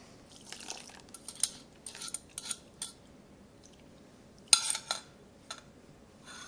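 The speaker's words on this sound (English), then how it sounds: "And give this a stir." Buttermilk pancake batter stirred in a bowl, heard as irregular wet clicks and scrapes of a utensil against the bowl, in short bursts with brief pauses between.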